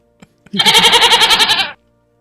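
A goat bleats once, a loud, close, wavering cry lasting about a second, after two faint clicks.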